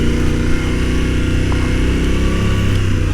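A 2021 Yamaha Tenere 700 motorcycle ridden through deep beach sand, its engine a loud, steady, close drone that holds continuously throughout with no talking.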